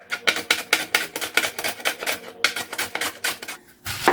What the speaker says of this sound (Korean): 무채를 치겠습니다.